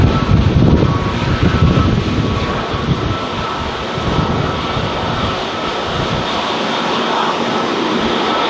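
China Southern airliner at Auckland Airport, a broad loud jet roar that is strongest at the start and then settles into a steady, slightly softer rumble.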